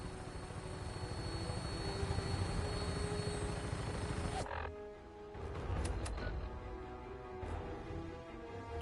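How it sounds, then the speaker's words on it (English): A Vertibird aircraft engine in the video game Fallout 4 hums as a dense, steady drone. About halfway through it drops away and is replaced by a thinner engine hum with brief bursts. "Tinker's gonna keep the Vertibird spooled for an immediate takeoff"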